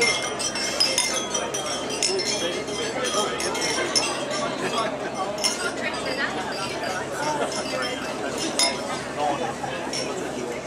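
Glasses clink again and again in a dense tinkling wash during a wedding toast, mixed with lively chatter from the guests throughout.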